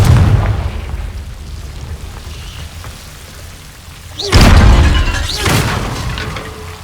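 Confringo fire spell blasts in the Hogwarts Legacy video game, two sharp booming explosions a second apart with crackling tails, loud over a steady rain-like rumble of background ambience.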